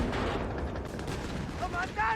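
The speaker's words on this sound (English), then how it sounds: "Well, that is an enemy artillery piece." Artillery and gunfire in Company of Heroes 3 during the desert battle for El-Alamein, with an enemy artillery piece firing: a steady, dense rumble of distant battle that runs for the whole stretch, with faint tonal chimes from the game near the end.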